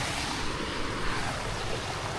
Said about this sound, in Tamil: இப்போ பூரா தண்ணி போயிட்டுருக்குது